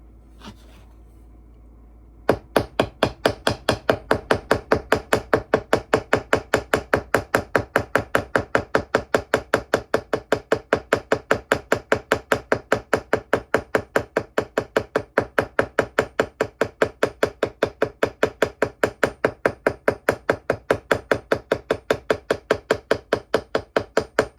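A hammer domes the pins on a fixed-blade knife handle with a moose stag scale, striking in a rapid, perfectly steady stream of sharp, close metallic taps that continues for over twenty seconds after a brief quiet start.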